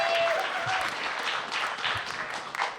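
An audience applauds at an esports team finals event, moderately loud sustained clapping from a crowd throughout the clip.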